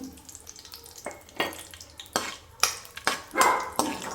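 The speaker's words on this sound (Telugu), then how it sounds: "సో ఇప్పుడు ఫస్ట్ అయితే నేను క్యాష్యూ అయితే వేయించుతున్నాను." Cashews fry in ghee in a pan for carrot halwa, with soft frying crackle broken by several sharp scraping stirs spaced through the moment, close and moderately loud.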